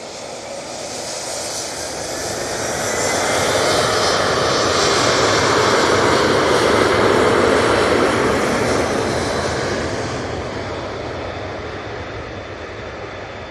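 A Ryanair airliner arriving from Paris lands at Manchester Airport with a broad, roaring jet rush that builds to a loud, sustained peak through touchdown and then slowly fades, with no voices.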